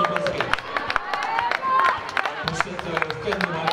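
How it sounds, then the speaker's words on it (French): Applause and cheering after the final of the 2018 Trophée Intermarché women's basketball tournament, a crowd clapping in a continuous patter with scattered whoops, a voice talking over it. "Applaudissements"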